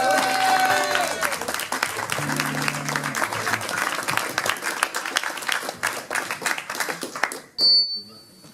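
Sustained applause from a live audience at a slam poetry evening in Nogent-le-Rotrou, dense clapping filling the room, with a voice speaking over it at the start and a brief tonal ping near the end.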